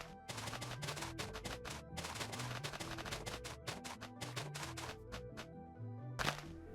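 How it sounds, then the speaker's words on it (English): A large number of TNT blocks exploding in Minecraft in a mine: a dense, rapid chain of overlapping booms and cracks rolls on for several seconds with a final louder blast near the end, with no talking. "place down a large number of TNT, set it on fire, and see what kind of damage we cause"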